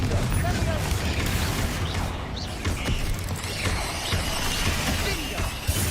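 A fire spell, Confringo, is cast in Hogwarts Legacy amid a dense, continuous wash of magical combat bursts, booms and mechanical clatter, loud and busy throughout with a voice present under the noise.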